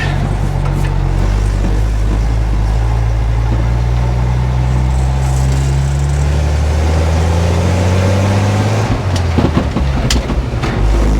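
A 1957 REO dump truck engine runs loud and close while driving, a heavy droning rumble that rises and falls in pitch as it revs and shifts, with rattling clatter near the end.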